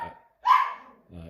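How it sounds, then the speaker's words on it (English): Dogs barking close by during a bird-supplement feeding demonstration, one strong bark burst standing out between stretches of a person talking. "please excuse the dogs there."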